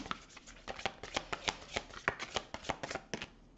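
Playing cards shuffled for a card reading, a quick run of soft, crisp riffling bursts in a steady rhythm, close and quiet with no talking.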